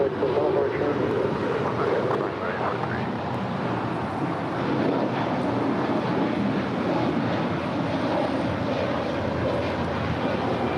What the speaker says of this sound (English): 3843 departing to Oakland, California. It's an A320 Neo.